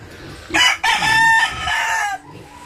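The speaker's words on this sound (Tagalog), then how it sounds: "Ang daming mga manok," A rooster crows loudly and close by, one long strained call, with other chickens faintly clucking around it.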